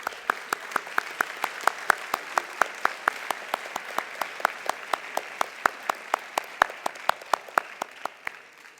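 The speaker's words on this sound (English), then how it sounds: "Let's give them a round of applause." A room full of banquet guests at a military academy senior dinner claps steadily, with a regular rhythm of distinct sharp claps standing out over a softer bed of applause, lasting several seconds.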